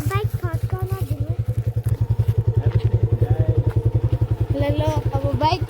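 A motorbike pulls away on a Shivaratri outing, its engine giving a steady, close, rhythmic low putter for the whole stretch while children and adults talk over it.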